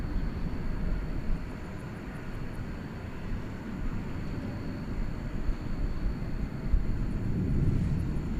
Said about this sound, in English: This aircraft, 737-800, is going to Fresno, California.